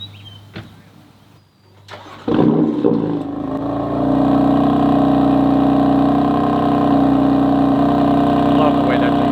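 A BMW F80 engine cranks and fires up after a few quiet clicks, then settles into a loud, steady, deep idle rumble that holds close by for several seconds.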